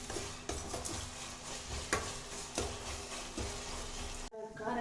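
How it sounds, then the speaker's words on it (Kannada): Tomatoes frying in a pan for a Malnad-style chicken curry: a steady sizzle with clattering stirs and spoon knocks against the pan at a regular pace, close by, with no talk. "ಫ್ರೈ ಆಗ್ತಿದೆ ಇವಾಗ."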